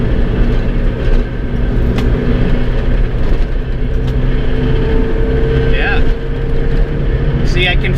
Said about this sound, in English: Let's go ahead and take it for a test drive